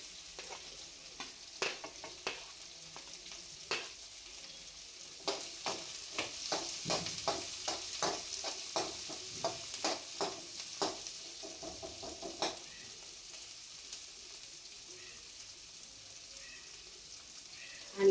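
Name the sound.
onions frying and being stirred for paneer pulao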